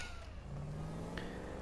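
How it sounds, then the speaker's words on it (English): A pet cat meows once indoors, a short faint call over a low steady room hum, with no talk. "Sorry if that's a cat meowing."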